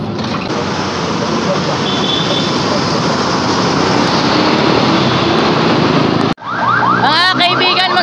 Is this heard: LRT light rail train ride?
yes